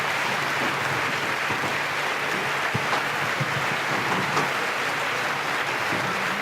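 Audience applause fills a large hall at a political address, a steady dense wash of clapping that holds evenly throughout with no voices over it.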